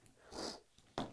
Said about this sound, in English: I've got the sniffles today, and I hope I'm not causing a whole lot of noise with that